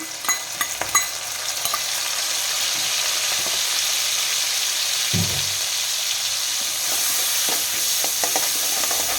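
Crab fat sizzles in a hot pan with fried onions and green chilies, a steady broadband hiss with occasional stirring scrapes and a brief low clunk midway, close and continuous with no voices.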